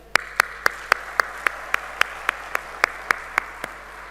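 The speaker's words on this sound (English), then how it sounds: "A big round of applause for this entire team." Claps ring out at a corporate leadership event, sharp and evenly spaced at about four per second, loud and close over a quiet room, with no crowd wash beneath them.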